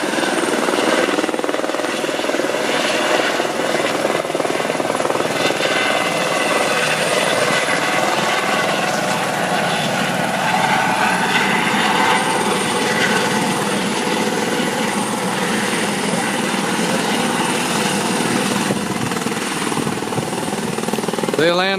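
A helicopter lands in Millennium Park, Grand Rapids, Michigan, its loud, continuous rotor thrum and turbine whine filling the scene up close, with voices faintly beneath.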